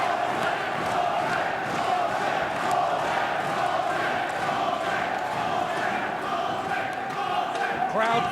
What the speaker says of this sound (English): Crowd crammed in to this Altrincham Sports Centre